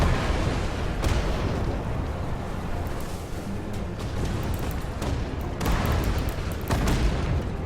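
Artillery in the online war game Iron Conflict booms through a dense, continuous rumble of battle, with sharper blasts standing out at intervals against the loud, unbroken background noise.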